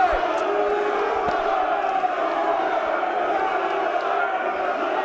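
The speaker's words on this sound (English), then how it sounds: "And the crowd is trying to encourage Team Europe." Crowd cheering and calling out at a 2012 Mosconi Cup pool doubles match, a steady loud roar of many voices that holds without a break throughout.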